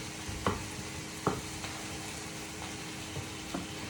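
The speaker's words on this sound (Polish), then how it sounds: "Już ładnie skwierczy." An omelette fries in plenty of butter in a heated pan, giving a steady soft sizzle with a few sharp clicks and scrapes from a utensil now and then.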